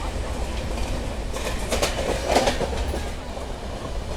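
The Jallianwala Bagh Express train rumbles steadily over the rails crossing the Markanda River bridge in India, with rhythmic clacking of wheels and a few sharper metallic clanks in the middle.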